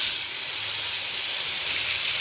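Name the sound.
fish sizzling as it goes into hot oil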